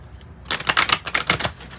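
A deck of oracle cards is shuffled with a short run of crisp, rapid riffling flutters, close and moderately loud, after a quiet start.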